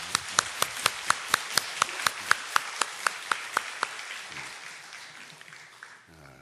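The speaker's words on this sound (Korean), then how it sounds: "우리 박수로 환영하겠습니다" Evenly spaced sharp claps, about a dozen, from a church congregation welcoming visitors, fading into a softer wash of scattered clapping that dies away.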